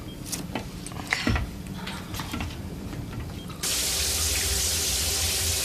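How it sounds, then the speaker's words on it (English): Shower water running in a 1999 sci-fi TV movie: a few seconds of quiet mechanical clatter, then a sudden, loud, steady rushing hiss of spray that continues to the end. "I need a shower."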